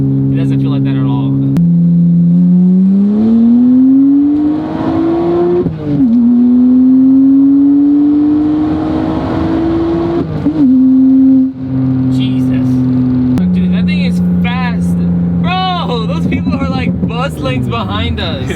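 A 2008 BMW 335i accelerates hard from a 40 mph roll, its engine note rising steadily in pitch through two long gear pulls, loud and close from inside the cabin, with people talking over it.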